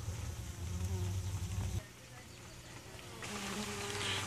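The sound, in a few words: honeybees buzzing in a thick cluster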